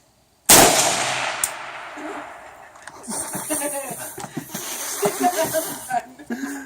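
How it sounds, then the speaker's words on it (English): A single sharp AK-47 rifle shot cracks out loudly after a short silence, followed by a decaying echo and then people talking and reacting nearby. "Pull the trigger. Squeeze."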